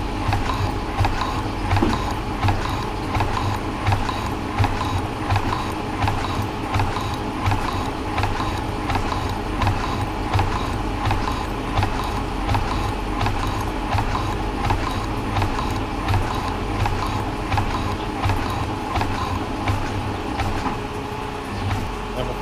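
A machine runs steadily while drilling a Magnum pocket drill jig, producing a continuous mechanical whir with a regular rattling pulse throughout.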